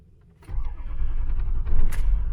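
A warm 2006 Ford F250 XLT diesel truck cranks and fires up after a quiet moment, settling into a loud, close, rumbling idle with a brief higher flare near the end.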